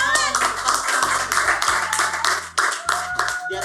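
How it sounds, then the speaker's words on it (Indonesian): Hands clap in quick, choppy bursts on a studio talk show, close to the microphone, over a low steady background tone. "Tepuk tangan."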